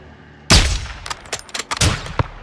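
Sniper rifle gunshots in Call of Duty Modern Warfare 2 campaign gameplay, one loud sharp crack followed by several smaller shots and impacts in an uneven sequence, no talk over them.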